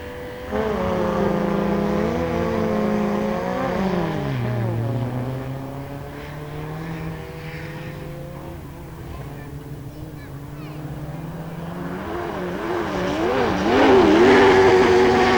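Autograss race cars, including a Mini, roar around a dirt track in a continuous loud engine drone with shifting pitch that surges again near the end, and a voice speaks over the racing.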